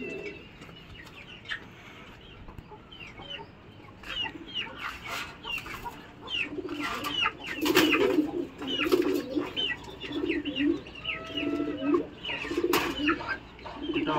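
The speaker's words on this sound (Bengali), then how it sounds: "এটা হচ্ছে পাকিস্তানি ডাবালা কবুতর" Pakistani Dabala pigeons cooing close by, a series of soft throaty coos building in the middle, with other birds and occasional clucks in the background.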